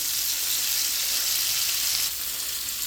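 Chopped fresh garlic fries with caramelized onions in a hot pan, giving an even, close hiss with a dense crackle that continues steadily on its own.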